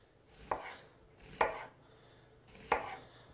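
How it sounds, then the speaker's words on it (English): A kitchen knife chops an onion on a board in three crisp, evenly spaced strokes, close and fairly quiet, with no talking. "I just want to slice it and then halve it"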